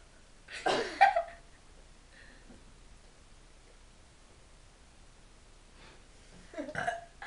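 During a burping contest, a loud, raspy burp erupts close by, followed by a long quiet stretch before a second burp ends the clip.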